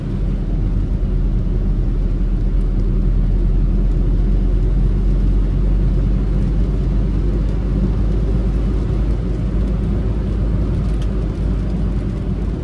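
A truck rumbles past while overtaking a car in city traffic, a heavy, steady low drone that stays loud and even throughout, with no talking.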